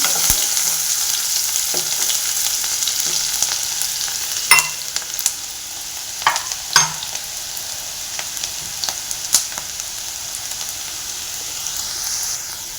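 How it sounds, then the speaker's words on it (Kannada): A medium onion fries in oil in a pan until golden brown, giving a steady close sizzle with occasional scrapes and taps of a spoon stirring it. "ಮೀಡಿಯಮ್ ಸೈಜಿಂದು ಒಂದು ಈರುಳ್ಳಿ ಅದನ್ನು ಅಷ್ಟೇ ಚೆನ್ನಾಗಿ ಗೋಲ್ಡನ್ ಬ್ರೌನ್ ಆಗಬೇಕು"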